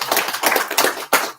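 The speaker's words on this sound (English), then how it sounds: "Let's give our sheep a round of applause." A small round of applause at a Moorish American spring equinox celebration, made of scattered, uneven handclaps from a modest group that swell and dip over a short moment, with one sharper burst near the end.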